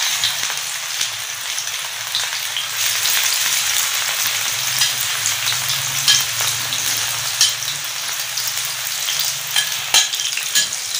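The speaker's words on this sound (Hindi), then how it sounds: "घी हमारा गर्म हो गया, आंच हमने हल्की कर दी और अभी फ़िश को फ्राई कर लेते हैं।" Fish frying in ghee on a tawa over low heat for a Lahori spicy fish fry, a dense, even crackling sizzle close up and continuous, with faint occasional pops.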